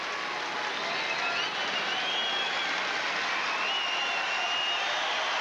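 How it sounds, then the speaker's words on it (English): A large tennis crowd at the 1999 Lipton Championships applauds and cheers steadily, a continuous wash of clapping and whoops at moderate distance, with no voices speaking. "Now the crowd getting behind Serena."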